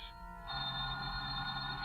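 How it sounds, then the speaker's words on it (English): An old-style telephone bell rings with a bright, trilling tone that starts partway in and continues steadily, with no one speaking. "Just then your telephone rings."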